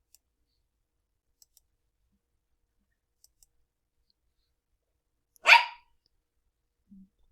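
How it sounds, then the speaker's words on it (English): A dog gives a single sharp bark in an otherwise quiet room, with a few faint clicks before it and a soft low thump shortly after. "And that's my dog barking."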